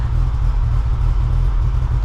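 A Nissan 300ZX with an RB30 engine idles right after its first start, giving a steady deep rumble at close range with an even tone and no talking.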